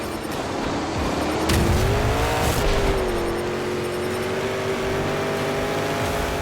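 Monster Jam monster trucks roar out of the starting gate at a racing show, a loud continuous engine howl whose pitch climbs and settles while heavy rumble and crowd-like wash fill the background.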